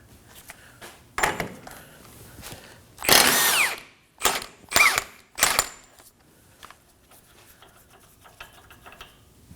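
Impact gun with a 36mm socket removing the rear axle nut on a 2017-2024 Nissan Armada during a wheel bearing and hub job: several loud close bursts of whirring and hammering, with quiet pauses between.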